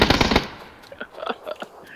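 Video game gunfire: a rapid burst of loud automatic shots up front, followed by scattered fainter single shots and impacts.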